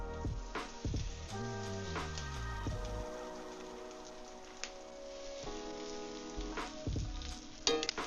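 Chicken fries in extra virgin olive oil in a pan, with a continuous crackling sizzle and intermittent spattering pops, accompanied by sustained ringing tones.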